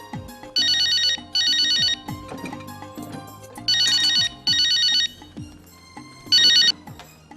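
An electronic telephone ringtone plays loud and close in an indoor drama scene, sounding in several repeated melodic bursts with short gaps between them, with no talking.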